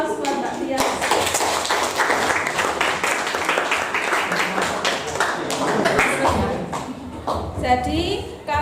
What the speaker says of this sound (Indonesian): Aplaus buat Mbak Tias.